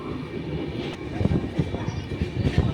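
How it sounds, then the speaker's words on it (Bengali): The Jammu Tawi Express pulling out of Bardhaman Junction, a low rumble with rhythmic clanks of wheels over rail joints building up, heard from inside a coach with background murmur. "বর্ধমান জংশন ছেড়ে বেরোলো ট্রেন।"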